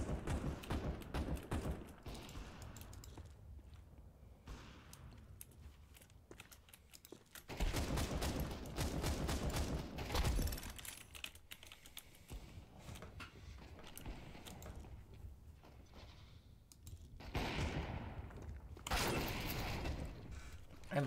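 Gunfire in Counter-Strike 2, coming in loud clustered bursts with quieter stretches of game noise and faint clicking between them.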